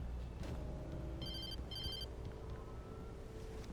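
A telephone rings in Alan Wake Remastered, two bursts of a bright electronic bell standing out over a steady dark game ambience with low rumble and faint tonal hum.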